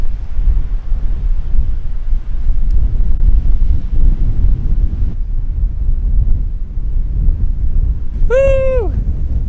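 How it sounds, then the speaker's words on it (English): Steady, rumbling wind buffets the microphone throughout, with a brief rising-and-falling whistle-like call near the end. "Look at the so much wind."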